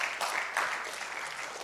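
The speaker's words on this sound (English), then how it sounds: "That's a good place to give God a big hand clap of praise." A church congregation claps in praise during a sermon, a brief burst of steady, moderately loud applause.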